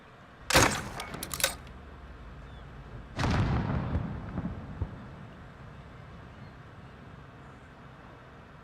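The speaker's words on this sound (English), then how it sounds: "another stationary shot, so you just shoot like so" A spawn tube fired from a stationary position in Modern Warfare on the Petrov Oil Rig or Suldal Harbor map: a sharp launch burst, a quick second crack, then a heavier booming impact a few seconds later that fades out.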